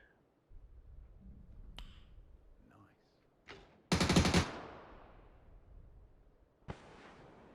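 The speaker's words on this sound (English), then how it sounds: "the MG3 that I presume he got from that crate" MG3 machine gun fire during a PUBG esports match: scattered sharp shots over a quiet backdrop, then a short loud burst of rapid fire midway, followed by a lone distant crack near the end.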